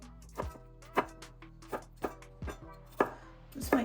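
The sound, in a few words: knife chopping red skin potatoes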